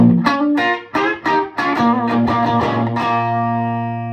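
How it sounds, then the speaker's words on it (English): Fender Stratocaster electric guitar played through a TopHat Rialto amp in reverb mode, a quick run of plucked notes and chords ending on a ringing chord that decays slowly, clean and close. "I think when you're in the reverb mode, the Strat plays nicer through it."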